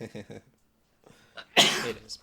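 A person sneezes once, loud and close, a sharp burst of breath with a short tail, just after a few words of casual speech from a group of friends.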